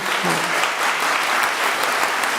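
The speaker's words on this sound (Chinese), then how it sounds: "咱用鼓掌来鼓励因" Church congregation applauding together in a hall, a steady dense clapping sustained throughout at fairly loud level, with no talk over it.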